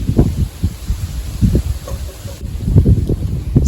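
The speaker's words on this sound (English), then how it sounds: "It's getting a little windy, so I hope that you can hear me okay." Wind gusts across an English garden in September, low rumbling buffeting against the microphone in uneven bursts, loud and close throughout.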